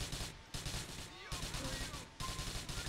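Rapid, sustained gunfire from a GTA IV multiplayer match, dense repeated shots with a few brief gaps, somewhat muffled and steady in loudness, with little or no talk over it.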